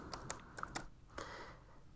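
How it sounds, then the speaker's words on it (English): Someone types on a computer keyboard to search a lighting fixture library, a few quick clicks and then a short burst of keystrokes, close and quiet with no talk. "I'm going to find the fixture in the library by typing in some letters of its name"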